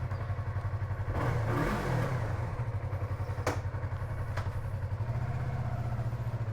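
A 2024 Yamaha MT-03 engine idles with a throbbing pulse in a garage, then revs up briefly and settles back, loud and close.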